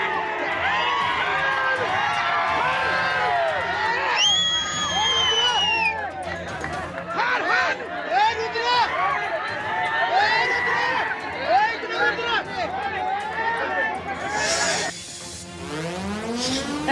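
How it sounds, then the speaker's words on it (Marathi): A crowd celebrates a local election win with loud cheering, whoops and overlapping shouting voices. The dense, lively noise lasts throughout and rises toward the end. "भालके गटाकडून एक मोठा जल्लोष साजरा करण्यात येतो."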